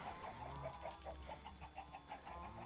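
Chickens in Minecraft cluck in a quick, regular series of short calls, soft and fairly close, with no talk over them.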